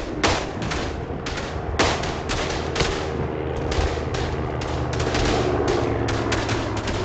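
Rapid gunfire crackles through a First World War battle in Verdun, with sharp shots and bursts layered over a dense, continuous din of distant rifles and artillery rumble.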